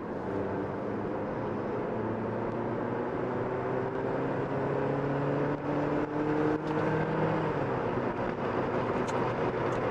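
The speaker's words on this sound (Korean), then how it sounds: "한번 수동 변속 모드로 놓고 달려볼게요" A Jeep Renegade drives in manual shift mode, its engine hum and road roar steady and close from inside the cabin, with a brief rise in revs partway through.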